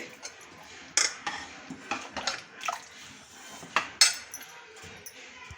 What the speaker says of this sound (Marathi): आपण वाटण वाटून घेतलं होतं ते धुवून घेते आणि ते पाणी यात टाकते